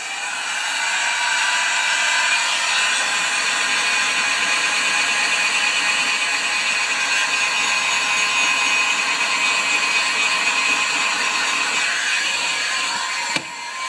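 A heat gun shrinks heat-shrink tubing on the wiring of an old Tecumseh mower, giving a steady, close blowing roar with a constant motor hum throughout and a small click near the end.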